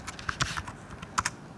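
Computer keyboard keys tapped while a network interface command is typed, about eight quick clicks in two short bursts, close and fairly quiet, with no talking.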